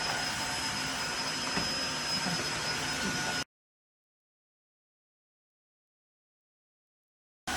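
Tineco hard floor cleaner running on a white floor, a loud steady motor whine with airy hiss for about three seconds, then a sudden cut to silence before the motor briefly returns at the very end.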